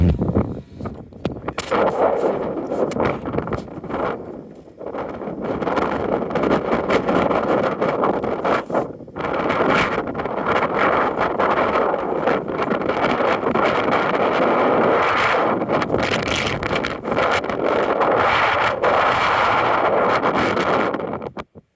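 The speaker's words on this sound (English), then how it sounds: "would you like some wind with that?" Strong wind buffets a car microphone while driving in rural Montana near Livingston, a loud, continuous rumbling roar with gusty bursts that runs for over twenty seconds.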